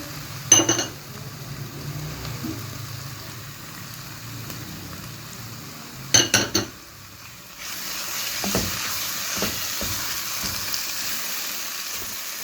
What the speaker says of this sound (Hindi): अब इस कंडीशन में मैं ड्राई फ्रूट्स डालूंगी, थोड़ी सी कसर है अभी। ड्राई फ्रूट्स भी इसमें थोड़े से हो जाए, रोस्ट हो जाए थोड़े से।